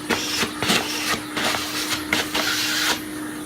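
A vacuum hose sucks debris out of drilled holes in woodwork, its steady motor hum broken by repeated short rushing bursts as the nozzle moves from hole to hole, close and loud.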